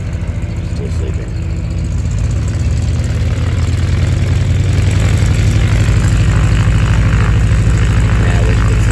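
A neighboring propeller airplane at the Oshkosh EAA AirVenture campground runs its engine close by, a loud steady droning thrum that builds slightly as it prepares to leave.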